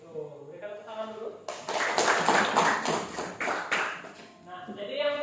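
A small classroom group claps during a teaching session, a brief burst of many hands that rises after a voice, lasts a few seconds and fades as the talking resumes.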